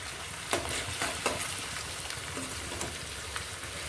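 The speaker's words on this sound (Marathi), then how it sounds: "इकडे कांदा फ्राय होतो आहे कांदा तळायला टाकला" Onions fry in hot oil for biryani with a loud, steady crackling sizzle close by, and occasional sharper pops and stirring clicks rise above it.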